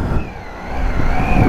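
A Triumph Tiger 800 motorcycle engine turns over and runs close by, a steady low rumble with a rising tone that holds and grows slightly louder as it settles into idle.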